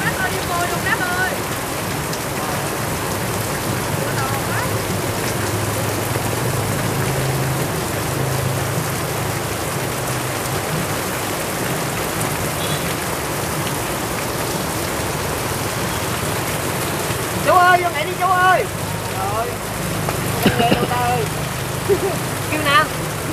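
Heavy rain pouring down and flooding the street, a constant loud hiss of drops on surfaces, with a low engine rumble and voices calling out near the end.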